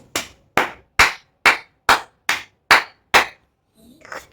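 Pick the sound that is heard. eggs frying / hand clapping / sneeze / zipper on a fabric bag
hand clapping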